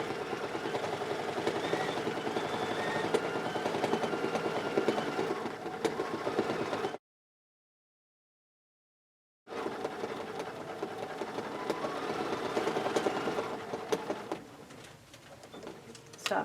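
A sewing machine quilts stitches across fabric blocks with a continuous, fast mechanical whir, breaks into a few seconds of silence, then resumes stitching and slows slightly near the end.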